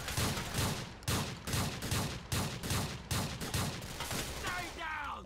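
Shotgun blasts boom one after another in Grand Theft Auto 4, a steady, evenly spaced run of about a dozen loud shots with little pause between them.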